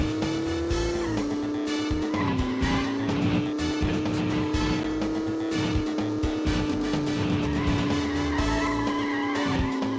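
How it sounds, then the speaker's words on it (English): Video-game car engine with a strong, steady drone that rises in pitch through the gears, over screeching tires as the car drifts out of straightaways. The engine runs loud and continuous for the whole stretch. "this engine's powerful enough that I can actually drift if I hold the stick directly left or right after a straightaway"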